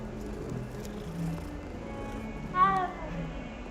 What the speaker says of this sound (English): let's get us the cat